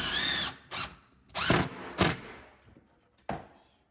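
A power driver sends screws in to secure a cabinet box to a wall, giving several short, loud whirring bursts separated by pauses, each one ending abruptly.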